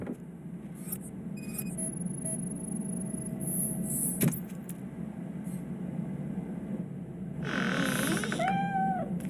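A cat meows several times in the video game Robocop: Rogue City, thin drawn-out cries rising near the end over a steady low mechanical hum, with a few faint jingling clicks earlier and no speech.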